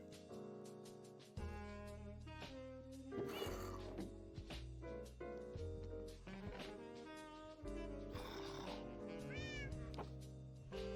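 A Minecraft cat meows several times, rising and falling calls heard close over steady background music, with no voices.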